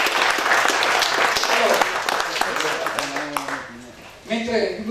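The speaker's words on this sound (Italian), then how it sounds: "Ancora un applauso." A club audience bursts into applause at a presentation for a Montebelluna club, a dense burst of clapping that thins out as a few voices talk near the end and the applause swells again.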